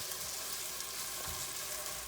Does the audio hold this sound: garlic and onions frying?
yes